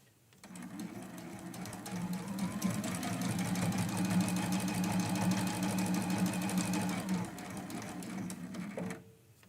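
A sewing machine bastes around the edges of layered quilt pieces, its motor whirring in a fast, steady run for about seven seconds before stopping, close and clear with no talk.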